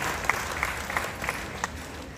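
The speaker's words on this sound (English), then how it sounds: "Round of applause for them." A short burst of applause from a concert audience at a spring school band concert, moderate clapping with a few sharper claps standing out, lasting about two seconds.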